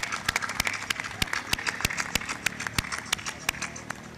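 Audience applause at the closing ceremony of the 67th AWT National Senior Hockey Championship 2023, a steady crowd clapping with sharp, distinct claps standing out at a fairly regular rhythm, moderately loud and continuous.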